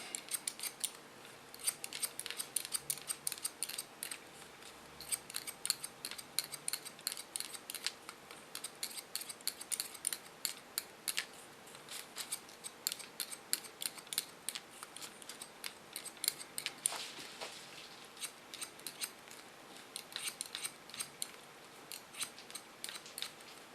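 Steel scissors snip hair at the neckline of a man's haircut in a barbershop, a steady rapid run of crisp close-up cuts throughout with no talking.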